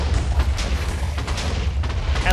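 A booming video game explosion rolls out as a dense, sustained low-frequency rumble filling the whole short stretch, loud and close, with no talking over it.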